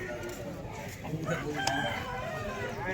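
A rooster crows at a busy Sunday poultry market in Vijayawada, moderately close against a dense market hum with occasional voices nearby.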